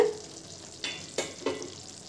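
A spoon stirs pineapple curry in a pan, a few scraping, clattering strokes spaced over a couple of seconds against a faint, low background, with no talking.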